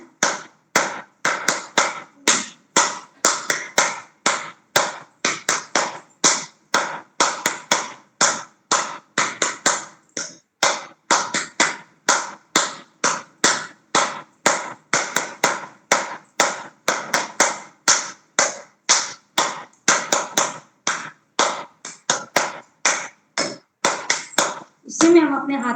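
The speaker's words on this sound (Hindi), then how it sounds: "ताली बजाएंगे अच्छे से।" A group claps hands in unison during a training exercise, sharp rhythmic claps repeating steadily and close for over twenty seconds, with a brief voice at the very end.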